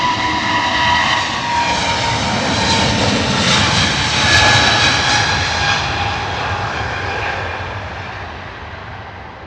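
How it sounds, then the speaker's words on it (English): A heavy United Airlines Boeing 777 jet departs Heathrow bound for New York, its engines a loud, steady, broad roar that swells slightly mid-pass and then eases off as it moves away. "Our next heavy United Airlines heading out to New York."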